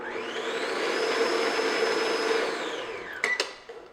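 An electric hand mixer beats vanilla extract into a biscotti dough, with a steady, close motor whine that runs for about three seconds, then winds down with a couple of clicks and knocks.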